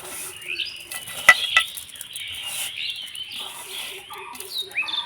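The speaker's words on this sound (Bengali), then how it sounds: "এবার চিনিটা ভালো করে মিশিয়ে নেব আমের সঙ্গে।" Grated raw mango is mixed with sugar in a bowl, producing scattered scrapes and a couple of sharp metallic clinks at a quiet, close level, with faint birdsong chirping in the background.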